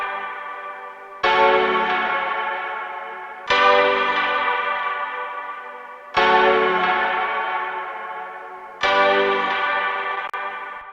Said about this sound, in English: Now the two key sounds together.